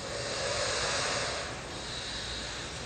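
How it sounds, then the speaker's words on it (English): A long, steady breathy threat hiss from an alligator, broad and loud throughout, easing slightly partway through, with no voices. "And the threat hiss sounds like this."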